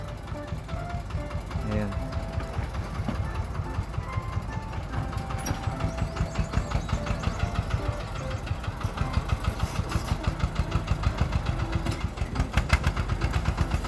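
A 4x4 kuliglig hauling 25 sacks of corn climbs out of a deep creek, its engine chugging in a fast steady knock that grows more pronounced, close, with someone talking over it.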